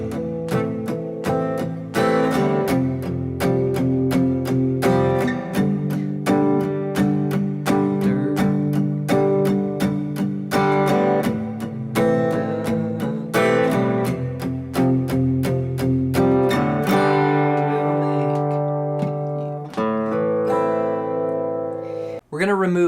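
Guitar playing the chorus of a song, a steady picked and strummed chord progression with ringing notes, loud and close, ending on a sustained chord.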